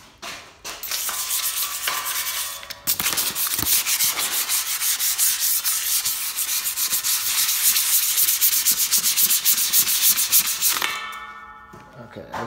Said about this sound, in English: let's get our sandpaper